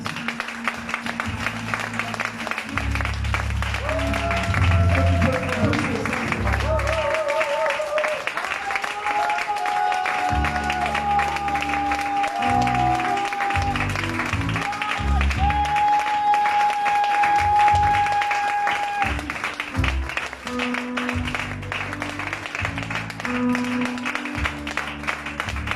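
Congregation applauding steadily through a church service, a continuous crowd of clapping with music and a voice heard over it throughout.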